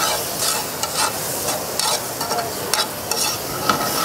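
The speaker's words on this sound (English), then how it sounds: "the carryover heat of that cast iron pan is going to pretty much cook those oysters" Oysters sizzle loudly in a hot cast iron pan, a dense steady crackle broken by repeated bursts as they are stirred and moved, close up with no talk.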